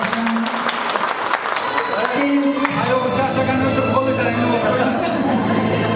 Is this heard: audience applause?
yes